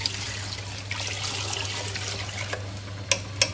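Water poured into a cooking pot of dal and rice, a steady trickling splash close by, with a couple of sharp clinks near the end.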